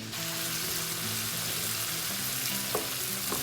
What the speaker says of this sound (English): in go the leeks. Let those saute a little bit.